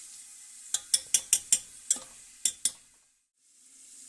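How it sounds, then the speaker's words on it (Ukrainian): Carrots and bell pepper fry in oil in an Afghan kazan for plov, under a steady close sizzle broken by about eight sharp metallic scrapes of stirring, then a brief hush before the hiss returns. "Після того, як я обжарив цибулю, я додав моркву, обжарив моркву, кинув болгарський перець."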